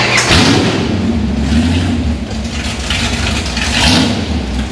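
A Mopar car's 426 Hemi engine roaring and revving loudly nearby at the Carlisle car show, swelling and easing in pitch with a deep rumble throughout.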